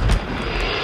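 A VTOL aircraft roaring overhead in a first-person shooter video game, a loud engine rumble with a brief burst at the start, alone without talk.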